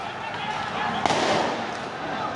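A large firecracker bursts once with a sharp crack amid the steady din of a street protest crowd, the blast short and close against continuous background noise.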